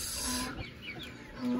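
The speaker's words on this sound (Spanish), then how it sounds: "Aquí están los gallos que los saludan con su característico canto, graznido o como se llame." Chickens cluck and a rooster calls briefly in Chiapas, Mexico, fairly faint and close, amid low background noise.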